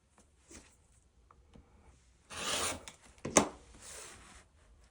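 Woven fabric strips for a quilt being trimmed, cutting off the scrap excess: two short, faint rasping cuts, a longer one then a quick sharp one, in an otherwise quiet room.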